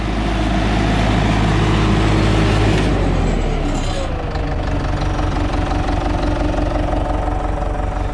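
A Case 850B dozer with a low-power complaint runs at high idle, a loud, close, steady diesel drone whose pitch shifts partway through and then continues unbroken.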